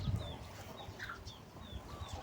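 Chickens on a cattle farm cluck faintly and intermittently near a calf at its feed trough, with no talk, over a low rumbling background.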